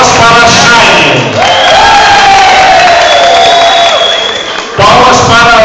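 An audience at a Star Wars cosplay costume contest at a fan convention cheers, whoops and applauds loudly for a contestant. The dense crowd noise runs throughout with shrill voices rising above it, and someone speaks over the noise through a PA system.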